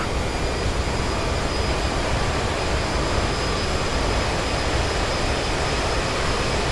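Roar of CRJ regional jet thrust reversers on landing rollout in Microsoft Flight Simulator, a loud, steady broadband engine rush that holds without letup throughout.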